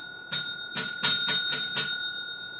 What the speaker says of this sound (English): You hear the bell? That means time is cut off.